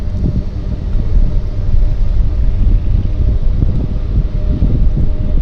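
A seaplane's engines run during a takeoff run across Vancouver's downtown harbour. There is a steady, fairly loud low rumble mixed with gusty wind noise on the microphone, and no one speaks.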